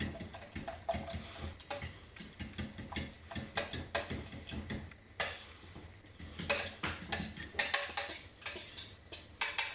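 Eggs with butter being whisked in a deep pan for scrambled eggs with spinach and parma ham: a rapid, continuous clatter of a whisk tapping and scraping the pan, close and steady throughout.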